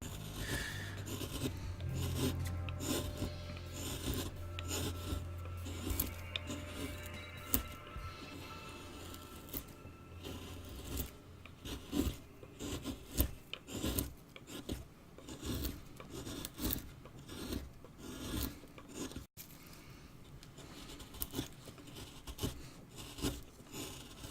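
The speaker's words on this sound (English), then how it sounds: "You get more of a sound cross-cutting though than you do cutting with the grain." A chisel cutting across the grain of wood while carving an owl, repeated rasping strokes, close and fairly quiet, with irregular bursts of scratching.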